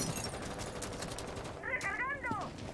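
Rapid automatic gunfire from the video game Rainbow Six Siege, a steady dense rattle of shots under continuous game noise, with a brief meow-like tonal sound near the end.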